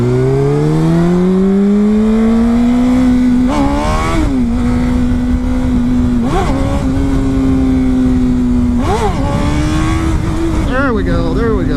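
A Honda CBR600RR sport bike engine on a test ride drones loud and close, its pitch climbing steadily and then jumping in repeated sharp throttle blips and dips.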